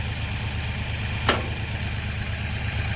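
A tractor engine idles steadily and close by, a low even rumble with one brief sharp click partway through, with no talking.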